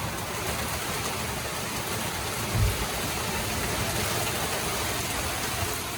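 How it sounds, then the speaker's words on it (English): Heavy rain pouring outside a slightly open shelter door on a trail, a steady loud hiss of rainfall throughout with a brief low thump partway through. "The rain's coming in."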